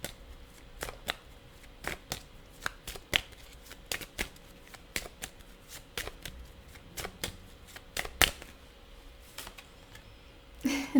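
A deck of tarot cards shuffled by hand close up, quick crisp riffles and soft flicks repeating in an uneven rhythm over a quiet room, with no talking.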